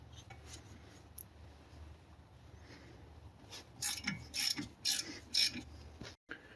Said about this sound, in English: Remove 7 millimeter hex guide pins.